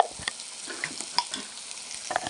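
Chili powder stirred into dried lotte fish frying in a pan, giving a steady soft sizzle with scattered scraping stir sounds and small pops throughout, close and alone.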